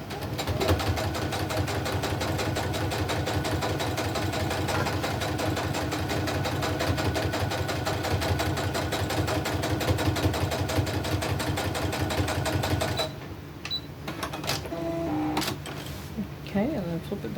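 A sewing machine stitches a crazy crumb quilt block with a fast, steady rhythmic chatter that runs for several seconds. It then stops and gives way to handling clicks. Heard up close while a person talks over it.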